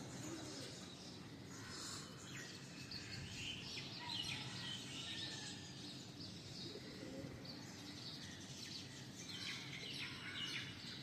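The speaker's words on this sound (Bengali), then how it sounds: "আর এদিকে পাখির ডাক" Birds chirp and call at dawn in misty weather, a faint, continuous mix of tweets drifting from a distance.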